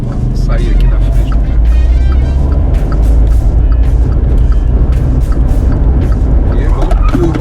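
A VW up! small car pulls away and accelerates with a steady, loud engine drone from inside the cabin, while someone talks over it throughout.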